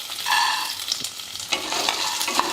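Roasted peanuts and roasted gram being stirred in a pan, a dry rustling scrape with a few sharper clinks of a spoon against the metal, close and steady over a couple of seconds, with no voices.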